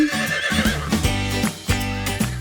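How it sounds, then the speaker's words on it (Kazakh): A horse whinnies loudly several times in quick succession, the calls rising and falling in a harmonic, shaky pattern, close by with no talking. "Мынау жылқы."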